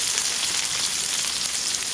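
Ginger frying in hot oil for chicken soup, a loud, steady sizzle and crackle running throughout with no talk.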